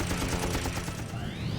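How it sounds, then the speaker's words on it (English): WWII fighter plane machine guns blazing in a head-on dogfight: a continuous loud, dense rattle of rapid fire under engine roar, with a rising whine coming in near the end. "Instead, he'll charge him with machine guns blazing."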